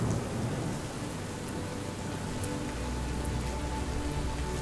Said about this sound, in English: we suddenly had to rush back as rain was on its way.